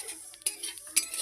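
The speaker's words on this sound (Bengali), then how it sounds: "তারপরে দেখো এই যে আমি ভেজে নিচ্ছি" Whole spices such as cumin, black pepper, nigella, fenugreek and ajwain being dry-fried in a pan, heard as two short scraping stirs of a utensil with faint clinks, close and quiet.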